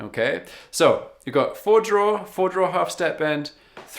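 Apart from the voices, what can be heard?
No everyday noise stands out behind the speech.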